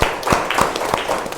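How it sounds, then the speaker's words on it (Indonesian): A small audience gives brief scattered applause, loose individual claps ringing out for a moment in a room during a presentation. "Oke, tepuk tangan dong."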